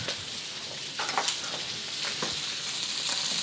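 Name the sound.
shrimp and prawns frying in a wok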